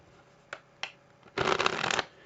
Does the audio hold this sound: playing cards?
yes